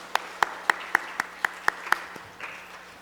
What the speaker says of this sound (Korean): 우리 다시 지휘자분 박수로 축복하겠습니다